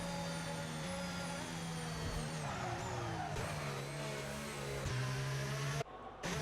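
Racing-game car engine in a Las Vegas race, a steady high-pitched whine that drops in pitch as the driver lifts off the throttle, then rises again, loud and continuous, cutting out briefly near the end.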